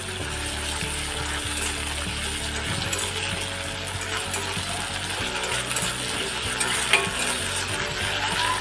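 Ginger garlic paste fries with tomato in oil for a pointed gourd and prawn dish, a dense steady sizzle with a low burner hum and occasional light metallic clicks from stirring, and no speech.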